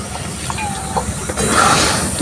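Water splashes into a hot pan of masoor lentils and raw mango, setting off a loud, close steam hiss that swells partway through and keeps sizzling to the end.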